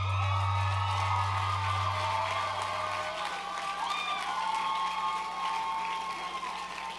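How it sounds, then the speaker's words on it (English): Loud, sustained applause from a large crowd, steady clapping with some cheering and whoops mixed in throughout. "what applause for this lady"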